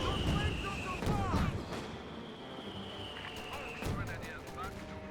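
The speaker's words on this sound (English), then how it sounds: "I hear its gun firing" Tank gun fire in Company of Heroes 2 amid a busy battlefield: a burst of sharp shots and bangs under steady game noise and a continuous high tone, with someone talking over it.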